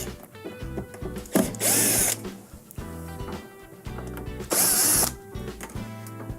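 Phillips screws backed out of a metal side cover panel on a Samsung dishwasher with a power driver, two loud whirring bursts, one near the start and one later, with mechanical clicks and handling noise between them.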